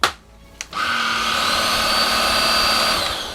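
A MOOSOO cordless vacuum cleaner switched on in low mode: a couple of clicks, then the motor spins up into a steady, loud whine with a constant hum, running alone.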